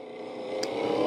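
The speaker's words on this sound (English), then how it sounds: "these cars are so loud" A loud car engine at a car show in Greenville hums and swells in a short rising rev, close by with no talking.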